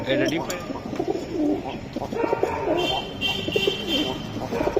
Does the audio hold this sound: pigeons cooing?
yes